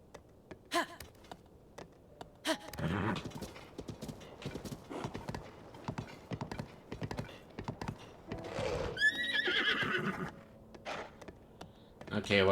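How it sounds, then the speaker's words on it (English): In Zelda: Tears of the Kingdom, the horse Epona gallops with rapid, close hoofbeats and gives a clear neigh partway through, while a voice talks over the action. "Is this really Epona? Do I only get this color horse for scanning Amiibo?"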